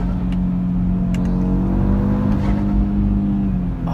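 An Audi RS3 (555 hp) revving hard at high rpm on a test drive, a loud steady engine roar heard from inside the car for the whole stretch, with no speech.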